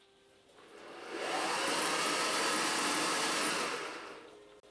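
The motor of a vintage sewing machine, driven by its foot pedal, spins up from quiet into a loud steady whirring hum, holds for a few seconds, then winds back down, close and alone.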